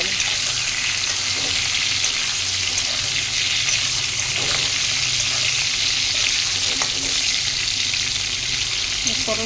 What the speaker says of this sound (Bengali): পটল এরকম ভেজে নিতে হবে।